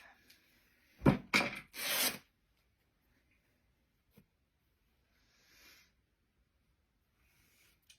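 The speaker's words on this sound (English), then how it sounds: "Because I have a lot of overhang, I'm just going to trim some of this off." Scissors snip away overhanging material while making a heart-shaped zipper pouch, a quick close cluster of cutting and rustling followed by near silence and a couple of faint small rustles.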